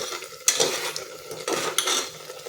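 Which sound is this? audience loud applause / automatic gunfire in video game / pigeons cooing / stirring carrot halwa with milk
stirring carrot halwa with milk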